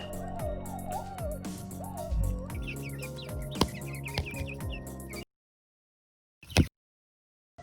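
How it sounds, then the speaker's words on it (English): Chickens cluck and chatter up close, with a few higher chirps mixed in, then the sound cuts to silence before one brief burst. "the first animals I gotta feed are the chickens"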